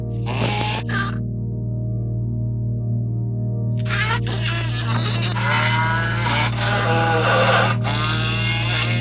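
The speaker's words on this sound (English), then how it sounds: "We're going to use this handy dandy impact wrench, and we're going to do 2 bolts, 2 per corner board, right in the middle." An impact wrench drives bolts into wooden garden box corner boards in a garage, with short whirring bursts near the start and a longer rattling run later over a constant low hum.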